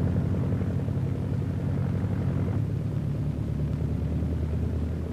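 A constant deep engine drone fills the airfield apron where light aeroplanes such as de Havilland Chipmunks taxi, steady and loud throughout with no voices.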